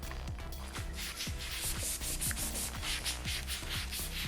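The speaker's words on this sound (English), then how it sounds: "I'm sanding the shaft." Hand sanding of paint off the handlebar shaft of a Ducati XDiavel, a close, steady rhythmic scrubbing of rapid back-and-forth strokes that goes on throughout with no voice.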